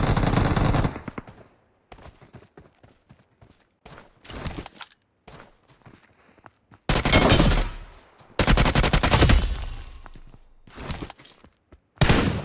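Gunfire erupts in a battle royale video game, with loud, close bursts of rapid automatic shots alternating with quieter single shots and footsteps in a squad fight.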